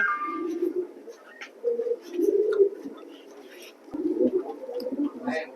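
A male racing pigeon at a pigeon loft coos in repeated low, throaty bursts, moderately close, with pauses between phrases and a faint higher note at the start.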